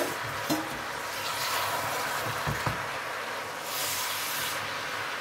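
Pork being stirred in a hot wok with soy sauce, a steady sizzle and hiss with a few scraping clatters of the utensil against the pan.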